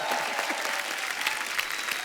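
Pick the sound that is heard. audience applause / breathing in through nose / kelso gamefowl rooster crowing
audience applause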